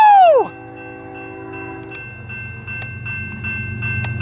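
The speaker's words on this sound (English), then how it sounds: "we have a UP freight and a BNSF one coming here" UP and BNSF freight trains pass near Barstow, California: a loud horn blast drops in pitch as it goes by, then the stack train gives a steady rumble with faint wheel clicks.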